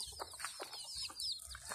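A hen clucks on a village chicken farm in the late afternoon, soft repeated clucks in an irregular rhythm, faint and close, with high chirps from other birds in the background.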